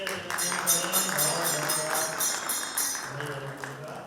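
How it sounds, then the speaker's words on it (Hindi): Audience applause at an Arya Samaj anniversary gathering, a steady wash of clapping that lasts throughout, with a voice speaking over it. "जोरदार तालियों से अभिनंदन करें"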